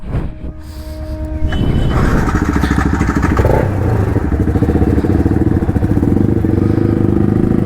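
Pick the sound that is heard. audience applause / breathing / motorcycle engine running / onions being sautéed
motorcycle engine running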